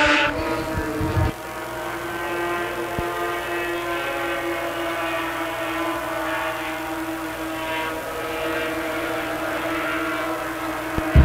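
Pro Lite class race cars roar out of turn four in a qualifier, a loud, sustained, high-pitched engine whine with rich harmonics holding steady after a brief rough burst at the start, with no talking.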